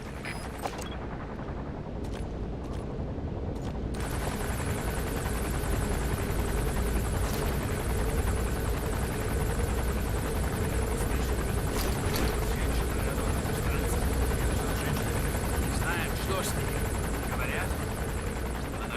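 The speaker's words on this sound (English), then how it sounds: "That's an enemy gunship." An enemy gunship helicopter in a space-themed video game drones loudly and steadily throughout, with scattered bursts of gunfire mixed into the dense, continuous noise.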